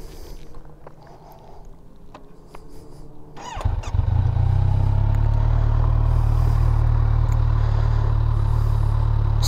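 A Kawasaki Ninja 1000 with its stock exhaust is cranked and fires up after some clicks and clatter, then settles into a loud, steady, deep idle rumble.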